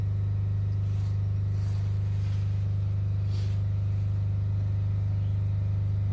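A Stephill 6 kVA diesel generator runs under load in a wind microgrid setup, giving a steady, loud low hum with a constant engine drone throughout and no voices.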